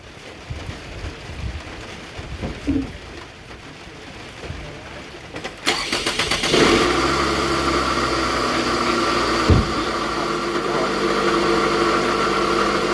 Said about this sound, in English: Now for the transmission, let me turn on the vehicle first.